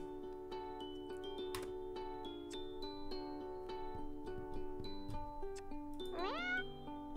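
A cartoon cat in the dating game Purrfect Date gives a short rising meow near the end, over a soft, steady melody of game music.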